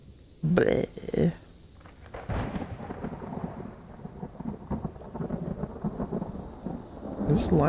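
Thunder from a lightning storm rumbles in long, low rolling waves, with a couple of louder bursts early on and a steady grumble afterward.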